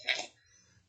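A single short, harsh cough or throat-clearing from a person who is ill, close and fairly quiet, fading quickly into near silence.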